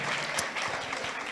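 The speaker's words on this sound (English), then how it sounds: "Let's give him a round of applause." Short, dense round of audience clapping at a jazz festival stage, a quick steady patter of many hands lasting just over a second.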